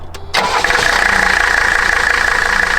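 An old Mercedes diesel car engine cranks briefly and catches, then settles into a loud, steady, close idle with an even clattering drone and no talking.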